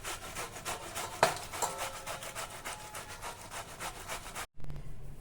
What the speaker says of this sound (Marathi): इथे किसणीवर आता आपण हे उकडलेलं बीट आणि बटाटा किसून घेऊया